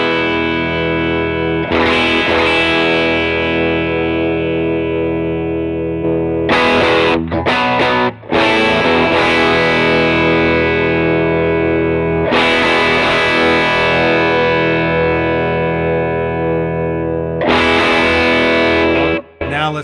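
An electric guitar played through an Analogman King of Tone drive pedal into a Vox clean amp capture, with sustained ringing chords that decay slowly. Fresh strums come every few seconds and there is a short burst of choppy notes, loud and alone.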